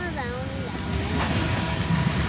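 A BNSF freight train with coal cars rolls past on the Spokane Subdivision, a steady broad rumble with a faint squealing tone, under brief talk.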